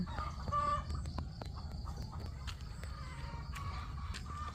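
Chickens cluck near a vegetable salad garden, with several short clucks and squawks scattered over a low outdoor rumble, fairly close.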